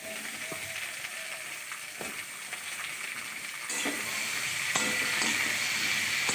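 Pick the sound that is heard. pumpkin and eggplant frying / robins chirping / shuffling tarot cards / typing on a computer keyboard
pumpkin and eggplant frying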